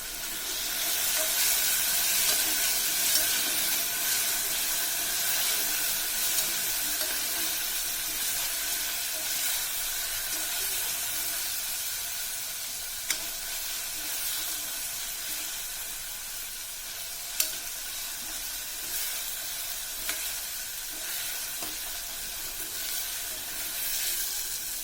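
Ginger and garlic sautéing in oil, a steady broadband sizzle and hiss that holds at an even level throughout, with a few faint clicks.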